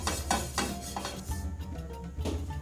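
Coconut oil is swirled around a hot pan, making a continuous close hiss and faint sizzle with light scraping and a soft metallic clink from the pan, heard alone without speech.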